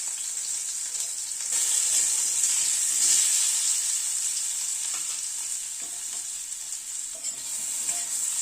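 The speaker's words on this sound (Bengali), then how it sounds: "আলুটাও একটুখানি ভেজে নেব।" Potato pieces sprinkled with salt and turmeric fry in hot oil, giving a steady close sizzle that grows a little louder and busier after the first second and stays even throughout, with no talking.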